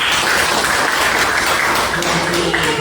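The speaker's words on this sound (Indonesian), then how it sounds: "Ya, tepuk tangan." Dense, steady applause from a classroom of students fills the whole stretch, loud and close, with no gaps.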